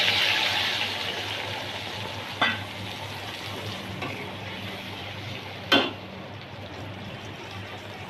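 A ground paste of mustard, poppy seed and coconut frying in hot oil gives a steady soft sizzle, with two brief scraping stirs against the pan and no talk.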